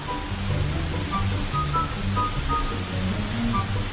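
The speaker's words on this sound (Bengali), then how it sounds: "বাইরে তো বৃষ্টি হচ্ছে" Steady rain falls outside in an animated cartoon scene, a constant soft hiss with faint scattered drops and no talking.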